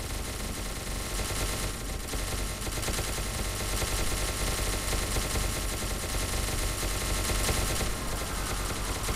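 Rapid, continuous gunfire in the video game SCP: Secret Laboratory, a loud stream of automatic shots with only brief dips, heard alone without talk.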